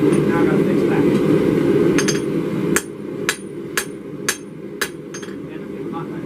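A hammer strikes a hot knife blade being forged: after a stretch of talking, six or seven sharp, ringing metallic blows land at a steady rhythm, close by and loud.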